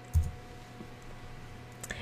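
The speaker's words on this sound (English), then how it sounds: "you're just going to click on the background and hit delete on your keyboard" A computer mouse click and a keyboard key press make a single sharp, soft click near the start, with a fainter tap toward the end, over quiet room tone.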